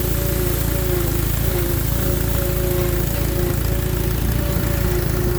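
An old Allis Chalmers WD tractor engine runs at a steady, loud, rhythmic chug, close by and uninterrupted for the whole stretch.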